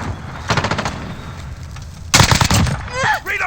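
Video game gunfire comes in two loud automatic bursts of rapid shots, the second heavier, with shouting voices of players around them.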